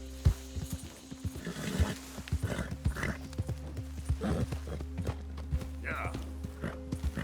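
A horse clip-clops along at a lively pace in the Red Dead Redemption 2 video game, with hoofbeats steady under a neigh or two. People talk over the game sounds throughout.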